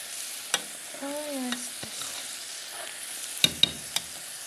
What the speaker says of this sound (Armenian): փոքր տապակում ենք չամիչը